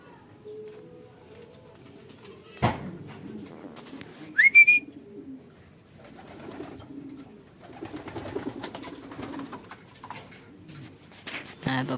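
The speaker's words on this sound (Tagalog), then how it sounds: "Ang mga ibon natin." Pigeons coo softly in intermittent low murmurs, with a sharp knock and a brief whistle-like chirp partway through, and quiet voices talking in the background between the calls.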